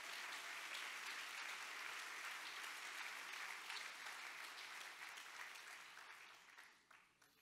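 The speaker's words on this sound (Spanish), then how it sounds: "Dele un buen aplauso de alabanza a Jesucristo el Señor." Congregation applauding in praise during a church service, a steady dense wash of clapping that holds for several seconds and then thins and fades toward the end.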